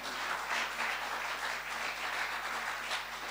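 A church congregation applauds steadily, a dense wash of many hands clapping at even loudness throughout, with a low hum underneath and no voices standing out.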